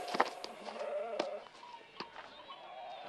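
Goats bleating on a mountain farm in a Ukrainian-dubbed Heidi cartoon episode; several short wavering bleats come close together near the start and again around the middle, then softer animal sounds trail off.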